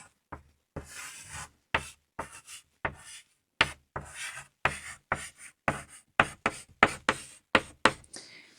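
Marker or chalk strokes scratch across a board in quick, irregular bursts, close and clear. Short scraping strokes are broken by brief pauses, much like someone writing out a list of words.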